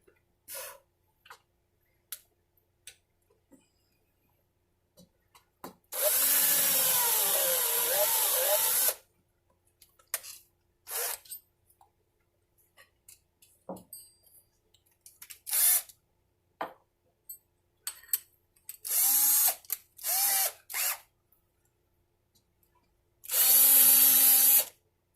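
Cordless drill with a dying battery boring into a banjo neck to clear sprayed lacquer, heard in two loud whirring bursts of a few seconds, then shorter sluggish spurts between scattered clicks and handling noises.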